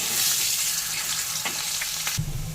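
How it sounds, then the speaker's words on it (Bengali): Potatoes frying in hot oil in a Bengali home kitchen, a loud continuous sizzle with scattered pops, close up, ending with a brief low rumble. "ওই তেলের মধ্যে আলুগুলোকে দিয়ে একটু ভেজে নেব।"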